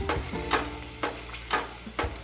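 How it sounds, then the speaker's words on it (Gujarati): Steady sizzling of hot oil with a ladle scraping through it in regular strokes about every half second, stirring chutney paste in the oil. "ચમચા વડે હલાવી લઈશું આપણે"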